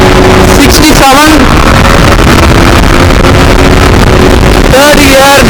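A Yamaha MT 15 motorcycle accelerates hard through the gears, its engine pitch climbing and dropping at each shift, loud and close under heavy wind roar.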